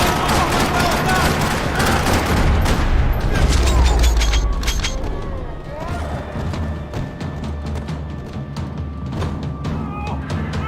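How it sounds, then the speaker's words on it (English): Gunfire rattling through a parking lot in Max Payne 3, dense bursts and sharp shots crowding the first half, then thinning to scattered cracks over a steady low rumble, with voices in the scene. "Another parking lot rattling with gunfire."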